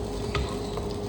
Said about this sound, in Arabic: راس بصل مقطع صغيرون صغيرون، وتجلس عاد تحمسه قليلي قليلي